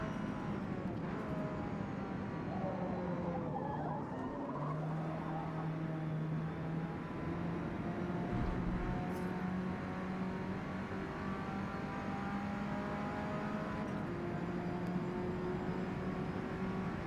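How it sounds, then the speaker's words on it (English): A front wheel drive car in a video game drones steadily, its engine tone holding and shifting in pitch as it drives, with some faint background noise and no clear speech. "I'm not used to front wheel drive cars and how they handle."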